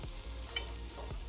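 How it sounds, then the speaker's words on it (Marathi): Chopped onion frying in hot oil for jeera rice, a steady close sizzle with a few soft stir scrapes across a brief moment, no voices. "मस्त असा कांदा तेलात छान परतलाय।"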